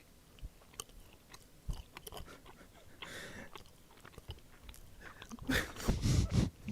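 Someone bites and chews a crunchy breadstick up close, with sharp snaps and crunching bursts that grow louder and denser toward the end.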